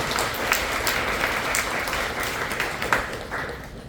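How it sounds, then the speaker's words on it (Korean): A church congregation at Sunday worship applauding together, a steady, fairly loud wash of clapping that holds for several seconds without pause. "박수로 격려하겠습니다."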